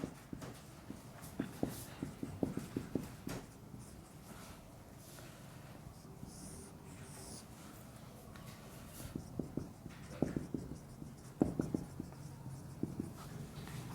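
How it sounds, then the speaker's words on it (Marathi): Chalk or marker tapping and scratching on a board as an example is written during an organic chemistry lecture, quiet irregular clusters of strokes with pauses and faint room noise, no speech. "एक एक्झाम्पल इथं लिहितो मी"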